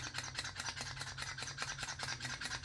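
Pump-action salt and pepper grinder crushing menthol crystals, a close, quiet run of rapid gritty grinding strokes in a steady rhythm, about a dozen pulses with no speech.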